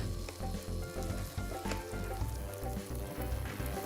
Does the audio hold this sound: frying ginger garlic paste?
yes